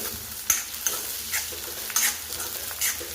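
Vegetables for curd upma sauté in a pan with a light, steady sizzle, broken by periodic spatula taps and scrapes against the metal at close range.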